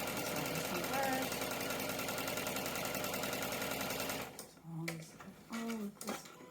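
A sewing machine runs steadily for about four seconds stitching jelly roll quilt strips, a close rapid mechanical whir, then stops while someone speaks briefly.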